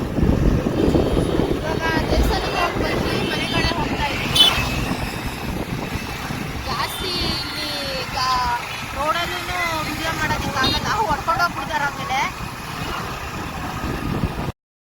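A motorbike carrying three riders hums along at a steady engine drone with wind rush, while people talk over it throughout the ride.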